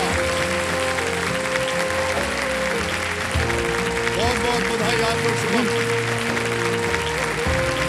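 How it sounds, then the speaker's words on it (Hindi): A studio audience at a TV quiz show gives a standing ovation, sustained loud clapping filling the space throughout while someone speaks over it and music swells beneath. "सब लोग खड़े होकर ताली बजा रहे हैं"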